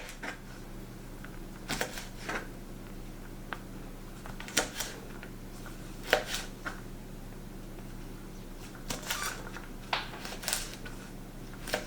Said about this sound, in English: So I just chop up the garlic scapes